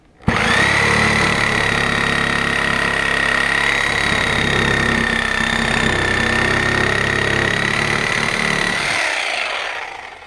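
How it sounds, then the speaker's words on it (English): A Sawzall reciprocating saw cuts through wooden gate fence boards with a loud, continuous buzzing rasp that runs for about nine seconds before it stops abruptly. "a Sawzall, and I'm going to cut in between the vertical braces"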